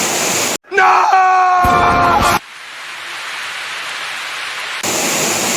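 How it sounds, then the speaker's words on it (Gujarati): Very heavy rain pours as a loud, dense wash of noise, cut off for a couple of seconds by a brief tonal, wailing sound, then returning steady and strong. "બહુ ભયાનક વરસાદ, બહુ જોરદાર."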